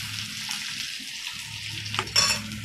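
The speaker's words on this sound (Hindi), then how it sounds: "इसको हमें ब्राउन होने तक भून लेना है।" Chopped onion fries in a pan with popped mustard seeds, asafoetida, green chilli and curry leaves for Mumbai-style poha: a soft continuous sizzle with gentle stirring and a sharper utensil scrape near the end.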